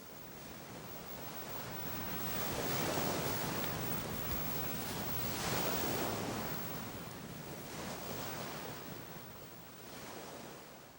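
Ocean surf rolls onto a sandy seal beach, a broad hissing wash of breaking waves that swells and fades in slow cycles, steady and moderately loud with wind noise and no voices.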